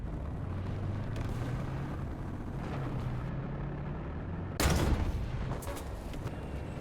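A tank cannon firing in a War Thunder battle, one loud booming blast partway through over a steady low engine rumble.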